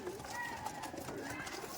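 Faint coos from high-flying Teddy pigeons in Murshidabad drift through a noisy background, soft and somewhat distant.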